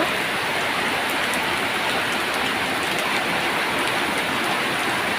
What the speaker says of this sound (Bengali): টিনের চালের বৃষ্টি রিমঝিম রিমঝিম আওয়াজ অসম্ভব সুন্দর লাগতেছে